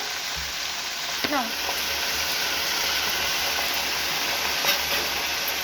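Mixed leafy greens seasoned with salt and turmeric fry in a pan and are stirred, producing a loud, continuous hiss with a few brief scrapes near the start and middle.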